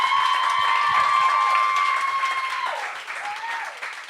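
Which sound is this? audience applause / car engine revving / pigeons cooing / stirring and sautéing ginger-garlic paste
audience applause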